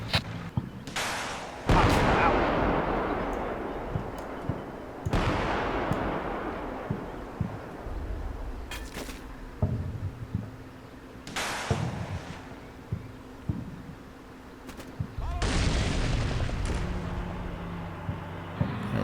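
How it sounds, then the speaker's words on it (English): Artillery ranging fire in the Combat Mission Black Sea wargame: a series of heavy, distant booms spaced several seconds apart, each followed by a long rumbling decay, with intermittent talking. "Пристрелка!"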